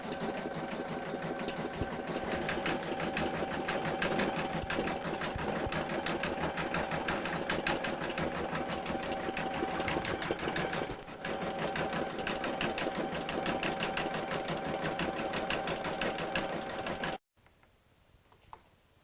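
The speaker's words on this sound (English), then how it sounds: "Stay near the machine during embroidery to make sure the bag doesn't shift." An embroidery machine stitches a design onto a cosmetic bag, a loud, fast, continuous mechanical rattle and hum that runs without a break and then stops abruptly, leaving near silence.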